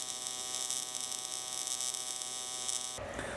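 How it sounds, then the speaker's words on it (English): Everlast AC TIG welder running an arc at 120 hertz, a steady, fairly loud high-pitched electrical buzz with strong hum harmonics that continues without a break before changing tone abruptly near the end. "we get a much higher pitch out of this weld, and that's because we've got twice as many cycles per second going"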